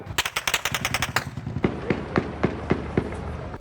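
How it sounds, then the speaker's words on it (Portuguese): Rapid bursts of gunfire, fired at police trying to get past street barricades, crackle loudly at first, then give way to slower, separate sharp shots spaced about half a second apart. "A polícia foi recebida a tiros."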